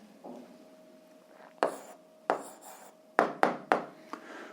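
A pen writing an algebra answer makes a series of short scratchy strokes, close and crisp, with several quick strokes bunched together near the end.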